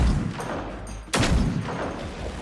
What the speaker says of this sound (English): this is a 50 caliber sniper. I'm just sitting here dumping rounds left and right.